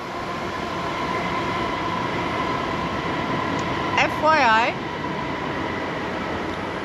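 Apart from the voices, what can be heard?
train at a station next to a garden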